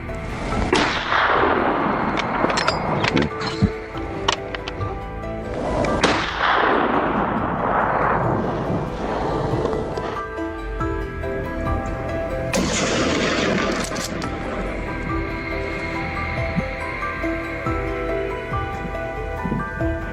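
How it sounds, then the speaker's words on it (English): Gunfire during a wild boar hunt in hilly country: loud rifle cracks come in several bursts, each followed by long rolling echoes that fade, with occasional sharper single shots between them. "The crack of gunfire echoed."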